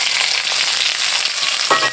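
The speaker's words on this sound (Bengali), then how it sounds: "এবার তেলটা হালকা একটু গরম হয়ে যাবে, তার মধ্যে আমরা ঢেলে দিব হচ্ছে এই পেঁয়াজ কুচিগুলো।" Chopped onions hit hot oil and fry with a loud, dense sizzle, close up and continuous. A brief knock or scrape is heard near the end, and no one talks.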